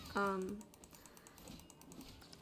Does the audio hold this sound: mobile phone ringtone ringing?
no